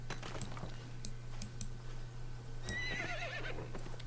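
A horse whinnies briefly near the end in the video game Albion Online, a high wavering call, amid scattered keyboard clicks and typing over a steady low electrical hum.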